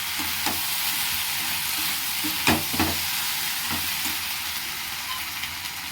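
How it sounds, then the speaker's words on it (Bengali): Chilli paneer gently stirred and sautéed in a pan, a steady moderate sizzle with a few soft spatula scrapes and knocks against the metal, no voices present. "এবারে হালকা হালকা কিন্তু নাড়াবো। 2-3 মিনিট কষিয়ে নেব"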